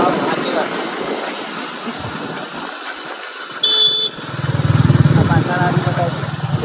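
Motorcycle carrying three riders along a village lane, its engine droning steadily and swelling louder toward the end, with a brief high electronic tone partway through.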